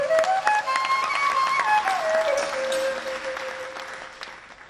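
Applause for Krishna Mandru, a young flute player, at a tribute concert in Mauritius, a steady wash of hand clapping from an auditorium audience that fades gradually, with sustained musical tones sounding over it.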